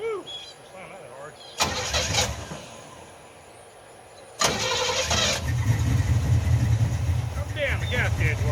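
An Oldsmobile car engine cranks and catches in two loud bursts, the second settling into a steady running rumble, with a door slam and some talking around it.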